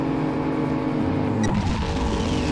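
A toy race car engine drones in the Super Toy Cars racing video game, a continuous buzzing motor tone that rises in pitch as it revs, heard without talk.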